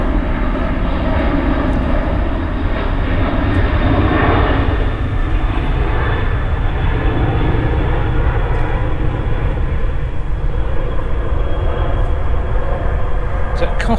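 An RAF aircraft passes overhead near Burford in the Cotswolds, a steady, loud engine roar that fills the whole stretch without letting up, with people talking faintly beneath it.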